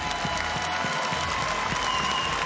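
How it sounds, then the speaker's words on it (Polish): Audience at a KSW MMA gala (XTB KSW 114) applauds a coach in the cage, a dense, continuous wash of clapping and crowd noise filling the arena without a break. "chciałabym, żebyście go nagrodzili wielkimi brawami"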